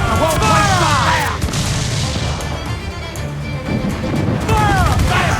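Heavy ship cannon blasts in an Assassin's Creed Black Flag naval battle, a couple of loud booming volleys with crashing debris and whistling shot, crew voices shouting between the firing.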